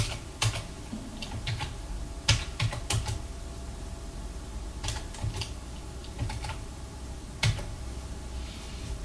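Computer keyboard keys being pressed on a Windows PC, a series of sharp, close clicks in irregular clusters with brief pauses between, loud against a faint steady background hum, no talk.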